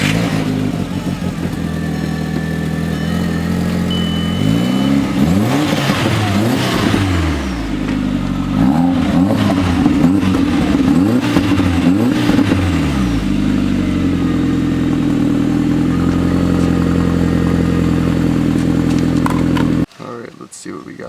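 A VW MK4 Jetta engine fitted with a universal catalytic converter starts and revs repeatedly with rising and falling pitch, loud and close, then settles to a steady idle before cutting off near the end.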